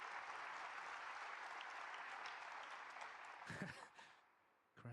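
A snooker crowd at the World Grand Prix final applauds a century break with sustained, even clapping that fills the hall, then thins out near the end as a commentator begins speaking.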